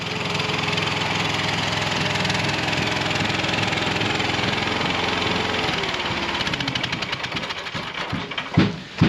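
Tracks of a Chinese mini skid steer running with the engine idling, a steady close mechanical drone with clanking rattles, thumps near the end and drumming in the background.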